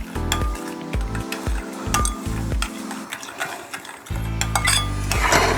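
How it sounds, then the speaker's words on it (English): A utensil clinks and scrapes against a pan as pork seasoned with salt and five spice is stirred, in rhythmic metallic knocks and rattles over a steady low hum, close by. "Let's give it a stir."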